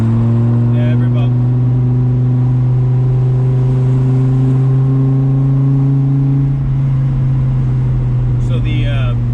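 Inside a supercharged Dodge Viper on the road, a steady low engine drone holds and shifts pitch as the car drives, with people talking over it throughout.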